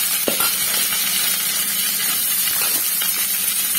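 Small shallots sizzling in hot oil in a pan for bitter gourd kootu, a steady bright hiss throughout with a few faint clicks.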